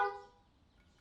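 A car horn gives one short toot at the start, then fades into low background rumble.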